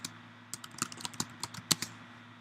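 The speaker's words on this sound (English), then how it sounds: "Type whatever you wanted to say," Fingers typing on a computer keyboard, irregular close key clicks in short bursts, fairly quiet, with no voices.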